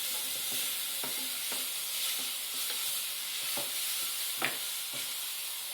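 Spinach stirred in a hot pan gives a steady, close sizzle broken by regular scraping taps of the utensil, with one sharper knock near the end and no voices.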